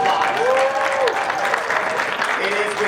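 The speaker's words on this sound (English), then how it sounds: "Nice round of applause." Steady applause from a crowd at a graduation ceremony fills the clip, with a voice speaking briefly over the clapping.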